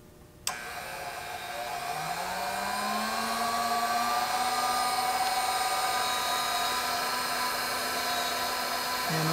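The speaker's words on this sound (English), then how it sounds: "These are pretty high quality carbide drills from MA Ford, and I run them at fairly high speed," A servo micro drill spins an MA Ford carbide bit at about 15,000 RPM for knife making, starting abruptly and then holding a steady, loud, high-pitched whine with a slight rising tone, with no talking.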